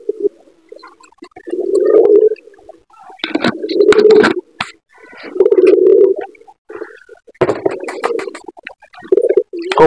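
Lakha pigeons settled in a cage give deep, close-up cooing calls in repeated bursts, with soft rustling and wing movement between the coos.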